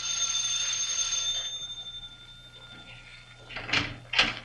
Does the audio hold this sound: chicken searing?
no